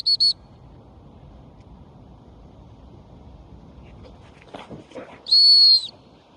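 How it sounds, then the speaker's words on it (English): A shrill dog whistle gives two quick pips, then a longer blast after a pause, over faint outdoor wind. "Three pips on the whistle."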